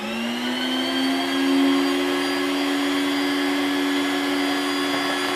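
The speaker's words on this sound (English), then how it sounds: "We're going to turn the mixer on" A stand mixer running while kneading bacon-infused hamburger bun dough, a loud continuous motor whine that rises slightly at startup and then holds steady, close and alone.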